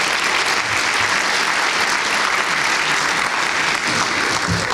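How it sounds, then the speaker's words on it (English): An audience gives a round of applause for Principal Buckler at a school evening hosting a Space Foundation panel discussion; loud, sustained clapping from a crowd runs throughout without speech. "if we could all give him a round of applause as well"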